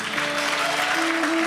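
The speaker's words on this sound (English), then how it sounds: "Please give a wonderful Swaha round of applause to all the participants" Audience at a Hindu cultural competition applauding the participants, sustained many-handed clapping at moderate loudness with a faint tonal hum beneath.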